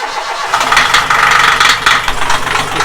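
A freshly serviced inboard boat engine with new oil and fuel filters runs steadily at a loud mid-pitched idle with a light rattle, close by, with no talking.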